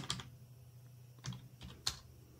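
Someone typing a command on a computer keyboard under Salix OS 14.2.1 XFCE, a few separate, quiet keystroke clicks spaced irregularly over a soft, steady background hum.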